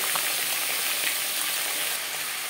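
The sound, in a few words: vegetables being stirred and fried in a pan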